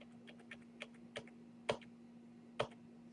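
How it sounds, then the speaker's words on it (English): Keys on a computer keyboard are pressed in a sparse run of close, crisp clicks, about eight taps over a few seconds with two sharper strokes, against a steady low hum and no talking. "I'm going to use my right key on the keyboard again"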